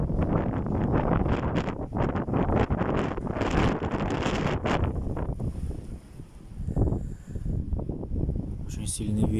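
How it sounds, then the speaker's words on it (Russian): Strong gusts of wind buffet the microphone in loud, rumbling bursts that ease and return, with a person talking through the first half. "Очень сильный ветер, порывистый."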